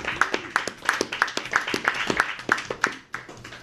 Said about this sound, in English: Let's give a round of applause to Carl for getting the recording going.